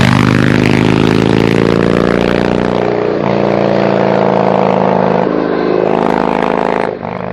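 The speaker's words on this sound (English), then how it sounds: "A V-twin, 1700cc, basic monster. It looks like a monster, it sounds like a monster." A 1700cc V-twin Yamaha motorcycle engine runs steadily up close, a loud throbbing idle with shifting pitch and a brief dip near the end, no voices.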